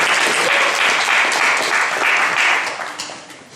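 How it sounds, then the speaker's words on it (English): A room full of people at an evening talk in Melbourne breaks into loud, dense applause for a speaker, sustained for a few seconds before it thins out and fades. "Give a round of applause for Richard."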